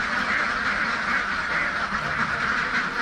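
A flock of three-month-old laying ducks in a farm pen quacks continuously, a dense, overlapping chorus of nasal calls close by, loud and steady without pause.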